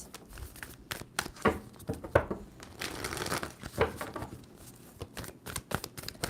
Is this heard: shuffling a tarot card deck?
yes